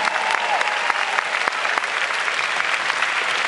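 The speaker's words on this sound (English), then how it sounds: "Give them a round of applause," Steady applause from the audience at the LSU Chancellor's welcome, greeting the Tiger Band section leaders, a dense crowd of clapping that holds at even loudness throughout.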